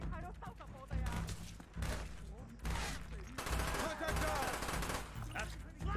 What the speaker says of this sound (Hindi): बात मरने के बाद भी फायर कर रहे हैं